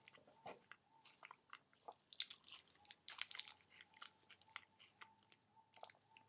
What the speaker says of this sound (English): start chewing.